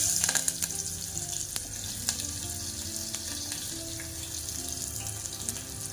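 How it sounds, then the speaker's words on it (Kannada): Onions fry in hot oil with cumin, a steady close sizzle with faint scattered crackles throughout and no voices. "ಈರುಳ್ಳಿ ಸ್ವಲ್ಪ ಕೆಂಪಗಾಗಷ್ಟು ಫ್ರೈ ಮಾಡೋಣ"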